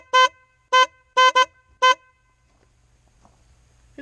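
Kemimoto aftermarket horn mounted on a Polaris Ranger UTV honks five short, loud blasts, two of them in quick succession, alone with quiet background after.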